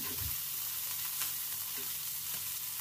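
Chicken skin sate taichan frying in a pan gives a dense, continuous sizzle and hiss with a few soft clicks as the pieces are turned, close and steady with no talking.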